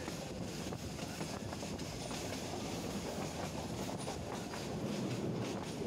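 Steady rumble and rhythmic wheel clatter of a passenger train running on the Dhaka to Sylhet line, heard from inside a sleeper cabin, continuous and moderately loud with faint squeals.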